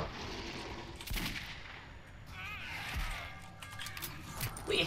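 Bursts of gunfire in the video game Metro 2033, several sharp shots scattered through the clip over a noisy game background, with no talking.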